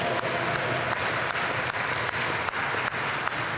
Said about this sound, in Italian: a lui è il nostro applauso d'obbligo.